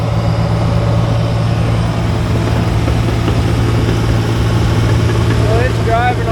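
A John Deere 850J dozer engine runs steadily at close range during a low-speed tracking calibration, a loud continuous low idle-like drone with no talk over it.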